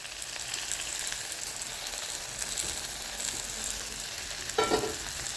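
Pre-fried okra and potatoes fry and sizzle in a pan as they are mixed, a soft continuous hiss with a brief burst of stirring near the end.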